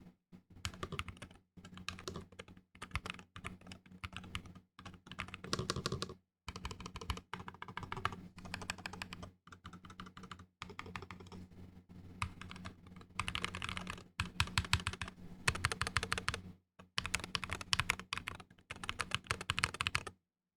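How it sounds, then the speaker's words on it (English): Fast bursts of typing on an Attack Shark X68 HE gaming keyboard fill the room, crisp clustered keystrokes broken by short pauses, close and steady with no talk. "So the keyboard sounds absolutely amazing."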